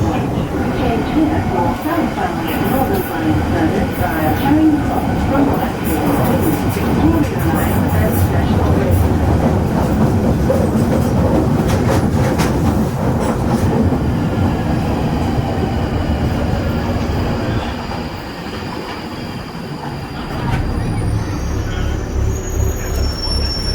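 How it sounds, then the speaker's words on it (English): A London Underground train rumbles loudly on metal wheels with rattling and screeching, a constant roar that eases briefly near the end, with voices faintly in the mix. "the London Underground uses metal wheels, so you hear the creak"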